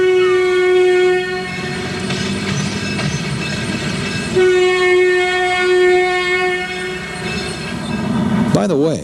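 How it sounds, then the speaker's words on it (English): A Toledo, Peoria & Western local freight train sounds long, loud horn blasts while crossing the Union Pacific at Reynolds, with rolling wheel and car noise underneath and a brief warbling tone near the end. "the local was again spotted at Reynolds crossing the Union Pacific"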